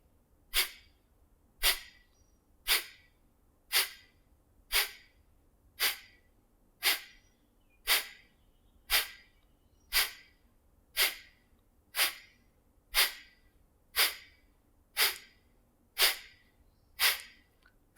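Kapalbhati skull-shining breath: a steady train of about seventeen sharp, forceful nasal exhalations at an even rhythm, close and clear, each a short hissing burst with quiet gaps between and no talking.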